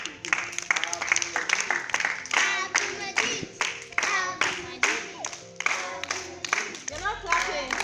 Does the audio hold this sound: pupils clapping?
yes